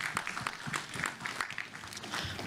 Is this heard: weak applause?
yes